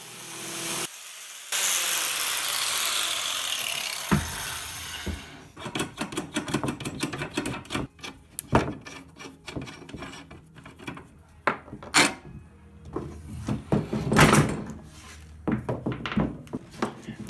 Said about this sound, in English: at first I had to take them apart and cut them in half